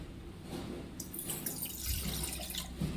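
Water poured into a pot of about one glass of water while making mint lemonade, a steady splashing pour close by with no voices, running continuously for a few seconds.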